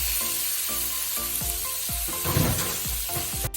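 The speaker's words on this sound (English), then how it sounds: "we're stirring this pork, pan frying it medium high until we see it turn like maybe brown" Pork spare ribs sizzle steadily in a pan over medium-high heat, with repeated scraping strokes of a utensil stirring them at a regular pace.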